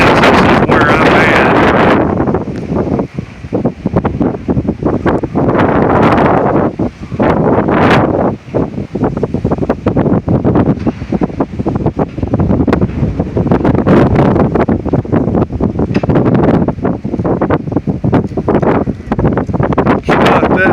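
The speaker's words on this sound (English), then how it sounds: "I can't even hold this camera steady. That's how hard this is gusting." Strong gusting windstorm wind in Howard, Kansas batters the microphone in loud roaring bursts that rise and fall for the whole stretch, with a hatch roaring and a voice partly buried in the noise.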